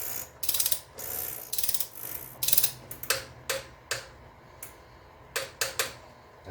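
A ratcheting torque wrench clicks in quick bursts while tightening the oil filter housing on a BMW E46, with crisp, close, irregular rapid ratchet runs and brief pauses between strokes.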